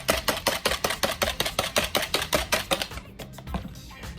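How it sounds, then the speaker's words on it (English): A honey hickory marinade for pork tenderloin is mixed briskly in a bowl, giving a quick run of about sixteen even clicking strokes close by before the rhythm breaks into a few scattered taps. "And we're just gonna mix it really well."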